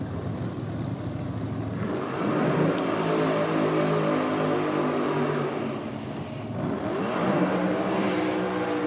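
Supercharged outlaw drag cars race at a daytime Chicago Shootout event, their engines roaring loudly and close with shifting, rising pitch and a brief dip midway.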